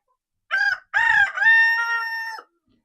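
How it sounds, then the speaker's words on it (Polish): A rooster crows once, loud and close, in a greenhouse: a short opening note, then a long drawn-out call that holds steady before cutting off, with silence around it. "nagrywa mi kukuryku za kukurykiem"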